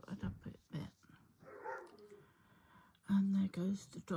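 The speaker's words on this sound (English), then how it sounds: "And there goes the dog complaining." A dog barks at a distance, a few short complaining barks during a home crochet session, breaking in among quiet talk.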